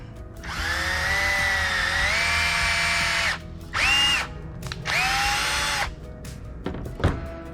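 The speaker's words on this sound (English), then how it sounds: "I'm using a 9/64 drill bit, and we're going to run this through" A cordless drill with a 9/64 bit whirs in three bursts separated by short pauses, its pitch shifting as the bit cuts through, followed by a couple of soft knocks.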